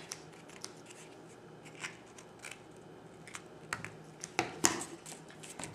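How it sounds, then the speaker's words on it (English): Scissors trim the small paper overhang on a handmade paper box, giving faint, scattered snips that grow sharper toward the end against a quiet room. "just trim off any of the little extra overhang so it makes it look nice"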